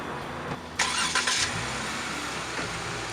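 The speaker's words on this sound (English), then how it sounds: "I'm gonna get into the Jeep, I'm gonna turn it on" A Jeep engine cranks and catches, then settles into a steady idle that sounds close by.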